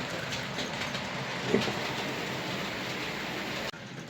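A small model Class 33 locomotive hums and rattles steadily along its track, a continuous close whirring with faint clicking, with no voices.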